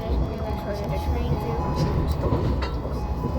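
Steady rumble and rattling of the Blue Symphony train heard from onboard, continuous rolling noise with faint clicks, with people talking over it.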